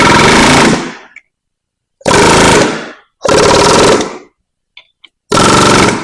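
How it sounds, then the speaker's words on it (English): Pneumatic air gun hammering V-pack seals into place, loud rapid bursts of rattling impacts in four separate runs of about a second each with short silent gaps between. "If you want to, turn your air gun down"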